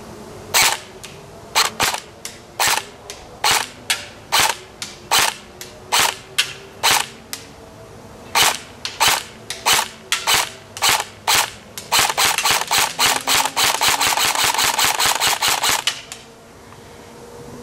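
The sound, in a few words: ARES M4A1 airsoft gun shooting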